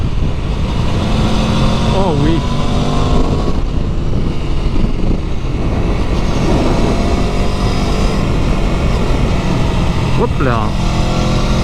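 A 2018 Aprilia Tuono V4 motorcycle roars loudly and close while being ridden, with heavy wind rush and a couple of sharp rising revs. A rider briefly speaks over the engine.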